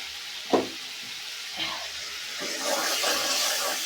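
Onion frying in oil with ginger and garlic paste for a river tengra fish curry in a village kitchen, a steady soft sizzle with a few knocks of a spatula against the pan.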